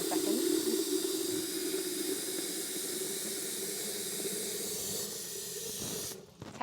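Lukewarm tap water runs into a flower vase while a Mother's Day bouquet is being arranged, a steady close hiss of flowing water that continues for about six seconds before cutting off.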